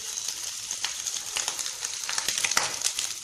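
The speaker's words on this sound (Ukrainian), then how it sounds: "Добре обжарилося." Sausage and vegetables fry in a pan for soup, giving a continuous close sizzle broken by small crackles and brief stirring scrapes.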